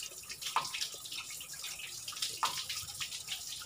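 Water gushes steadily out of a car radiator being flushed until it runs clear, a continuous splashing hiss with a few louder spurts, close by and with no talking over it.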